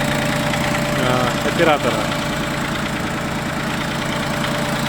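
A Yanmar F14D Japanese mini tractor with a rotary tiller idles in a steady, even mechanical rumble with a faint knock, while someone talks over it throughout.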